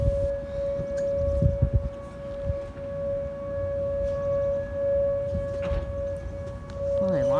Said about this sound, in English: Oh, those are sirens.